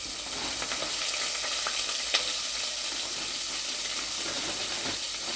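Ground green chillies dropped into a sizzling samosa vegetable filling, a steady close frying hiss with light stirring scrapes and one sharp tick, no talk.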